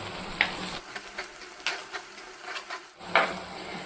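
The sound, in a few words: sautéing garlic, shallots, chillies and curry leaves in pan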